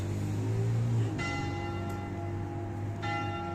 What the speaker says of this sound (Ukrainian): Чуєте, це на ратуші б'ють.